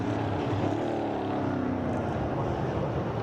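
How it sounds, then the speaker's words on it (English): Onboard a Chevy NASCAR Euro Series race car, number 77, on a hard qualifying lap: a loud, steady engine drone with a dense, rough mechanical roar that holds without pause, and no talk. "we go on board with Mark Goossens on board the number 77 DF1 Racing Chevy"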